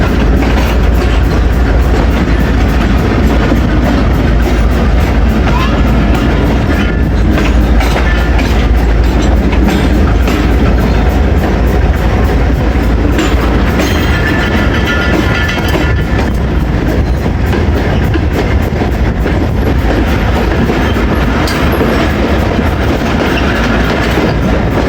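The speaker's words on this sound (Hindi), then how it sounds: "Down Shalimar express." Shalimar Express passenger train running on a line between Multan and Lahore, hauled by a locomotive with older coaches, gives a steady loud rumble with clickety-clack of wheels over rail joints throughout, close by and with no talk.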